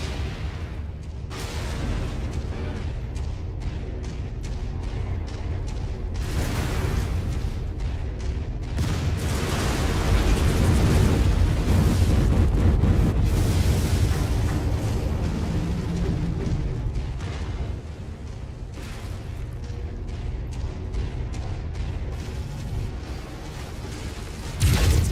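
Missile explosions in the MechWarrior 5 video game, with continuous deep rumbling blasts, a swelling roar in the middle and scattered sharper impacts, all heavy and close.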